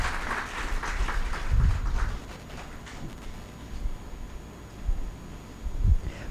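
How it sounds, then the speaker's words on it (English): An audience in a hall claps for a guest of honour at the valedictory session of a technology conference at NIT Delhi. The applause is fairly faint, with a few louder low thumps scattered through it. "Kindly give a huge round of applause."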